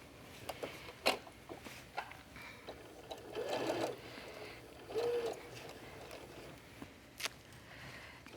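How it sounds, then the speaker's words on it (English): A domestic sewing machine stitches a casing seam on a fabric fish-shaped beach bag, quiet bursts of whirring stitching separated by pauses, small handling clicks and rustles around them. "And then I will sew the casing in place with a 1/2 inch seam allowance."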